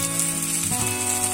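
Chopped garlic and lengthwise-cut green chillies hiss and sizzle steadily in hot oil. The frying stays close and continuous, with background music playing over it.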